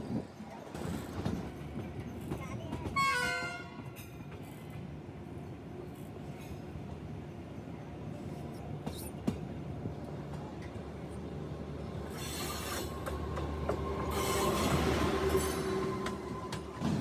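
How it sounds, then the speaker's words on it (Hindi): The 12437 Secunderabad Rajdhani Express running fast on the tracks between Hyderabad and Nagpur, a steady low rumble and clatter of wheels heard from inside, with a brief squeal early on and a swell of noise near the end. "ट्रेन की स्पीड नोटिस करी, ज़्यादातर काफ़ी फास्ट चल रही थी"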